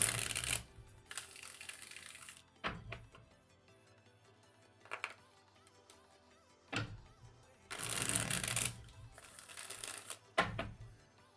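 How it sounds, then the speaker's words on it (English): Playing cards are shuffled in several bursts of riffling and rustling, close up, separated by quieter gaps with small taps and clicks. "Let's get to shuffling."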